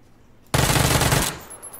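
A loud burst of full-auto gunfire from a rifle in PUBG rattles out as one dense, continuous volley lasting under a second, then cuts off into quiet game ambience.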